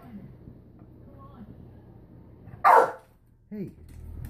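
A single loud bark from a nearby dog, followed a moment later by a shorter, softer yip, with low murmuring around it.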